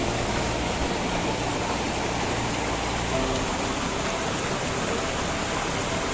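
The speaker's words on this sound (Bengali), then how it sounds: "এইখান দিয়ে জল আসছে এখন জলের ফ্লো খুবই কম" Low water flow in the Upper Ghagri stream at Netarhat, a steady, close, broadband rushing wash with no pauses, even in loudness throughout.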